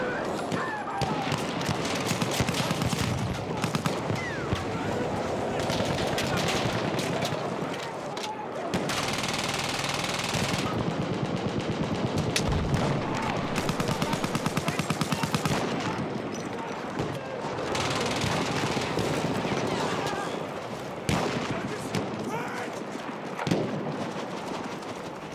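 Machine gun fire rattles through a Battlefield 1 team deathmatch in a long, dense stretch of rapid overlapping shots and battlefield din, with a few brief lulls and a sharper burst near the end.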